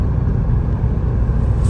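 A 2000 Opel Blazer with a DOHC engine rumbles at a steady idle nearby, a continuous low engine drone with no voices over it.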